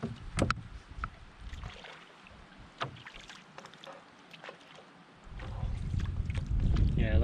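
Canoe paddled on water during a Thanksgiving family trip, faint paddle strokes and light splashes under steady wind noise on the microphone, with wind buffeting growing heavier toward the end.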